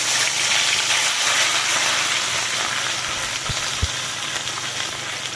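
Charred onion pieces frying in oil for a spicy pomfret fish curry, a loud, dense, continuous sizzle up close with a couple of small knocks near the end and no talk.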